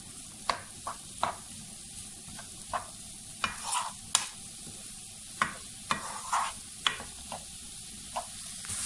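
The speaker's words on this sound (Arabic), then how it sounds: "غادي نقليو هاد البصيلة ديالنا" Onion frying in a pan, a continuous sizzle broken by regular scraping stirs of a spoon, close and moderately loud with no talking.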